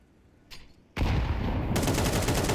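Loud automatic weapon spray in Counter-Strike on the map Train during a competitive match. Brief faint sounds come first, then a sudden sustained burst of rapid fire that holds to the end, no voices.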